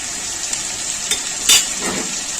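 Coriander and cumin frying in a pan for a prawn curry, a steady bright sizzle throughout with a few brief louder crackles and a burst of spitting midway, no voices.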